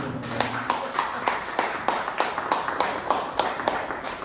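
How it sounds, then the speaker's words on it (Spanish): A church congregation claps steadily in time during a worship service, a regular rhythmic beat of handclaps continuing throughout. "Dale otro aplauso fuerte al Señor."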